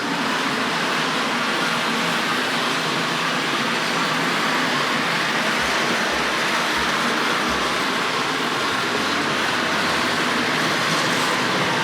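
A Tri-ang RS.14 Transcontinental passenger model train with ribbed wheels runs fast around its track, making a steady, loud, broad rushing rumble with a few soft low thumps partway through.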